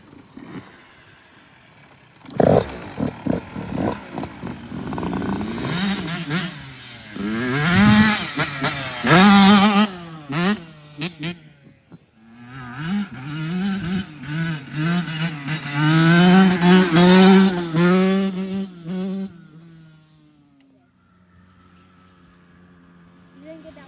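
Dirt bikes rev hard at an outdoor wheelie competition, the engines rising and falling in repeated throttle blips, close and loud. Voices talk over the engines, and everything dies down near the end.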